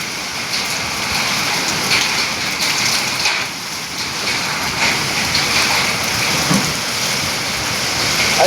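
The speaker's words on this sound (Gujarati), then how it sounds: "અત્યારે વરસાદ વરસી રહ્યો છે ધીમે ધીમે ધારે અને પવન સાથે છે" Steady, dense rain driven by strong wind falls continuously with a broad rushing wash, loud and close, with no voices, in Gundala, Vinchhiya taluka, Rajkot.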